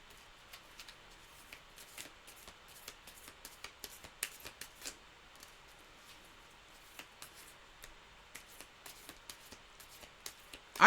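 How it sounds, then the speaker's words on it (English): Tarot card decks shuffled by hand produce rapid, soft crisp riffles and taps in irregular bursts, close and fairly quiet, with a louder handling noise at the very end. "They're making me really shuffle the decks today."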